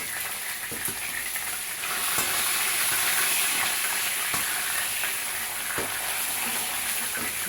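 Salted fish fries in a pan with a loud, steady, hissing sizzle and a few faint clicks and pops from the hot oil, heard alone.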